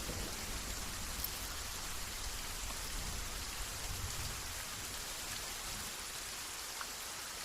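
Steady, dense rainfall pattering on surfaces in a film scene, continuous and even from start to finish with no voices.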